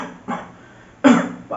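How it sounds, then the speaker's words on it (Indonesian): A male teacher coughs in a classroom setting, two or three short, sharp coughs separated by brief pauses, close and loud against a quiet room. "Pak Guru agak batuk hari ini."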